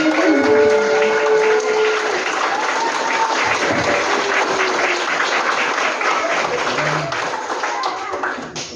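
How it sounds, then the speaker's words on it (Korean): A political event audience applauds to welcome a former mayor onto the stage, with sustained crowd clapping and some murmuring voices that hold steady and then thin out toward the end. "박수와 함께 환영드립니다"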